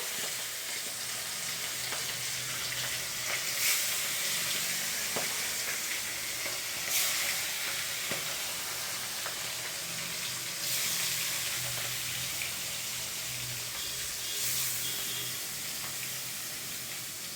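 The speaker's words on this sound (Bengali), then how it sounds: "আর এই যে মাছটা এখন ভেজে নেবো।" Fish pieces fry in a pan, giving a loud, continuous crackling sizzle throughout with occasional swells of hissing spatter and faint background clatter.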